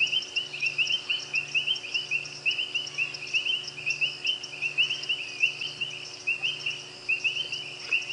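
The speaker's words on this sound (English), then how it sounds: "sit and listen to the sounds of the frogs in the enveloping darkness" A steady night chorus of frogs and insects in an African safari reserve at dusk: rapid high chirping trills pulse continuously, with a low rhythmic croaking underneath, no voices.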